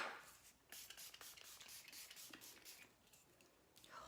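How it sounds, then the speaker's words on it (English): A few soft, quiet hissing bursts of makeup setting spray misted onto a face, close by, with brief pauses between puffs. "And then setting spray."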